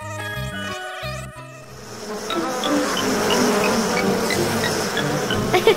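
Buzzing of bees in a Tamil children's cartoon about a honey bee hive, a dense insect drone that swells after a quieter musical opening and holds steady under the score, with no talking.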